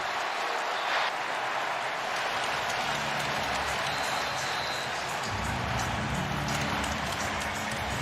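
Loud, steady roar of a football stadium crowd at a Patriots versus Colts NFL game in New England, a dense wash of cheering that holds without pause and swells slightly louder toward the end.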